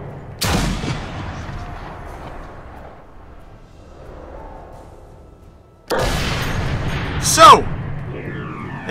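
Sniper rifle shots in the video game Sniper Elite III: two sharp, loud reports a few seconds apart, each trailing off in a rumbling echo, with quieter game ambience between them.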